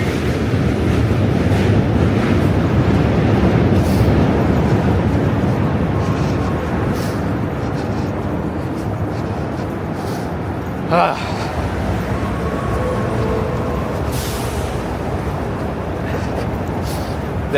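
Trains roll past on near and far tracks in a city, a steady loud rumble and wash of noise that eases slightly over time, with a brief screech in the middle.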